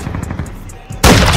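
A single loud sniper rifle shot in Call of Duty MW2 cracks out abruptly near the end, following a quieter stretch of game ambience and faint voice chatter.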